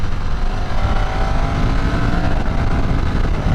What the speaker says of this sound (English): So I'm varying RPMs, be downshifting here.